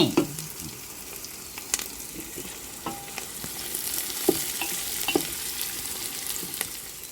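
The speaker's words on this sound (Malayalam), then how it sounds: "വെളുത്തുള്ളി ഇഞ്ചി പേസ്റ്റ് ഒന്നിളക്കി" Ginger garlic paste fries in hot oil for a jackfruit biryani, a steady close sizzle broken by scattered clicks and scrapes of stirring, with no talk.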